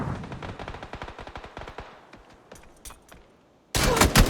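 Gunfire in the video game PUBG, a rapid spray of close, sharp shots that thins into scattered single cracks, followed by a sudden loud burst of firing at the end.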